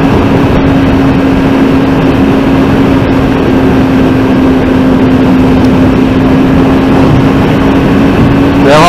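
A motorcycle ridden at a steady pace near Loch Lomond gives a loud, constant low engine drone mixed with wind roar, holding one pitch throughout without speech.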